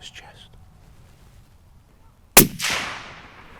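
A single sharp rifle shot fired at a fallow deer during a stalk on an East Sussex estate, preceded by near-silence with faint whispers and followed by a long rolling echo that fades away.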